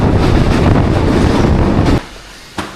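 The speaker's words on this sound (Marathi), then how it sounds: "बघा म्हणजे काय हालत आहे ट्रेनवर, कशा प्रकारे प्रवास करावा लागतो बघा." A crowded Mumbai local train near Diva Junction in the morning gives a loud, close rumble and rattle with wind buffeting, which drops off abruptly, leaving quieter running noise and a brief knock.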